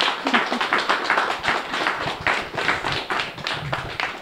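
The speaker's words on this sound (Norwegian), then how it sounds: "Så folkens, gi jo Eva en applaus." Audience clapping at a summer exhibition on Andøya, uneven and moderately loud, a scattered crowd applauding a handicraft exhibitor with loose, irregular rhythm.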